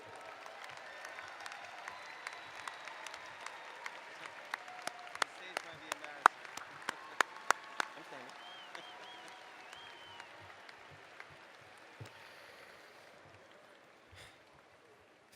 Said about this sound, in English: recognize you with a much-deserved round of applause.